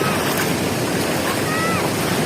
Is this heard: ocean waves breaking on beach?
yes